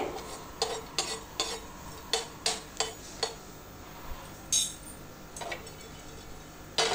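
Three green cardamom pods dry-frying in a pan, a spoon scraping and clinking against the metal in a string of short taps and stirs, close and fairly quiet.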